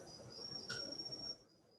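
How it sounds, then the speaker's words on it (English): Faint, high-pitched cricket chirping trills steadily over soft background hiss, then cuts to a quieter, thinner chirp near the end. "I can hear the crickets here"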